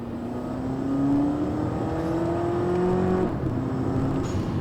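A 2010 Skoda Octavia with a DSG DQ250 gearbox pulling steadily, the engine drone rising smoothly and then dropping abruptly as the transmission shifts, followed by a new, lower engine note.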